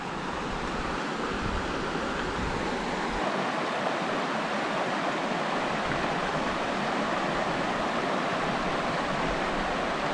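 A river rushes along a trekking trail near Cânion Realengo in Santa Catarina, Brazil, producing a constant, dense hiss of flowing water that stays loud and unbroken throughout.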